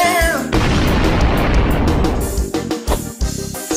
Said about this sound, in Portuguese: Olha a explosão.